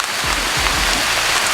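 Rain pours steadily in a monsoon forest, a dense, loud wash of drops with some low thumps near the start and no voices.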